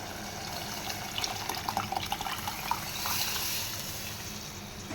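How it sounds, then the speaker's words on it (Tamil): Mashed dal is poured into a pan of sambar, a short wet gurgling and splashing pour with a few soft glugs, fairly close and without talk. "இப்போ நம்ம கடைஞ்சி வச்சுருக்கக்கூடிய அந்த பருப்பை வந்துட்டு இதில் ஊற்றிடலாம்"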